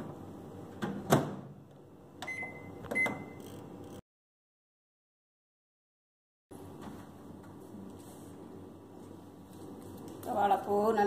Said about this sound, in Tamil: இதை நான் இப்போ 4 நிமிஷம் மைக்ரோவேவில் வைக்கிறேன்.